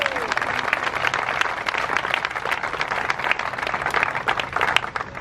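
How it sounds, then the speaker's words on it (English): A crowd applauds Lois at the Survivor Strong 5K Run & Walk ceremony, with continuous clapping from many hands and a few louder claps standing out. Faint background murmur is mixed in. "And I think Lois deserves a round of applause from all of us."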